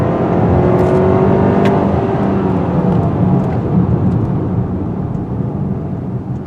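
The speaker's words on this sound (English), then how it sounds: "So let's do a 0 to 60 run without looking at the speedometer." A 2021 Kia Sorento X-Line AWD accelerates hard in a 0 to 60 run, the engine note climbing in pitch through the gears under loud road and wind roar heard from inside the cabin.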